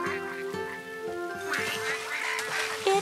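Cartoon ducks on a rainy day let out a rapid run of bright, nasal quacks, close and clear over a soft musical background.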